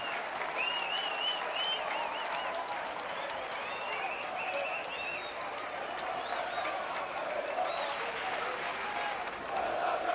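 A rugby crowd at a Rondebosch v Bishops schools match cheers and applauds after a try, a broad sustained roar of clapping with whistles and shouts rising and falling, and commentary voices beneath.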